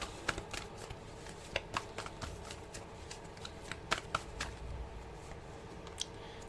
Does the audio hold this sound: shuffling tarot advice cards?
yes